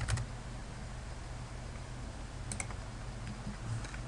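Fingers type on a computer keyboard in quiet, close bursts of light clicking keystrokes over faint background hum, entering text into a field.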